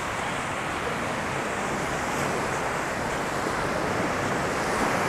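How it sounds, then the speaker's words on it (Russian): Sea waves wash onto the beach at Dzhemete in Anapa early in the morning, a broad, steady rush of surf mixed with wind noise and no voices. "уже море близко. Прям совсем уже слышен его шум."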